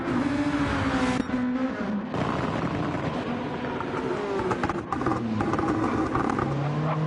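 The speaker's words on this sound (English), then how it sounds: "The noise off of these cars is just... it is so good." Race car engines in the Gran Turismo 7 video game scream loudly and continuously at the Nürburgring 24h, with pitch climbing and dropping through gear changes as cars pass close by.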